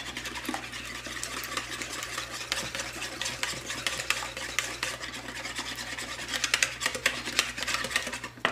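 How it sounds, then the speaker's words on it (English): A large egg being stirred into pumpkin cinnamon roll dough, giving continuous close rubbing, scraping strokes of a spoon against a bowl, uneven in rhythm and growing slightly more vigorous toward the end. "1 large egg, crack, plop, there it is. Mix that in."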